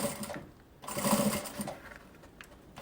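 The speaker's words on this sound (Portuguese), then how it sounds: "E faço uma costurinha de uma ponta a outra." A sewing machine stitching a seam from end to end on fabric for a small zippered pouch, a steady close mechanical whir that swells and eases, with no talking.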